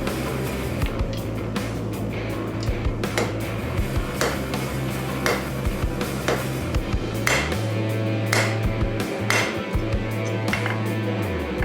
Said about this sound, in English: Having this 130-pound anvil is a game changer.